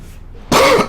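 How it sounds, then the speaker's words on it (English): After a quiet moment, a person near the microphone lets out a short, harsh cough, one abrupt burst with a brief follow-up, from someone who may be coming down with a cold. "Sorry for the coughing."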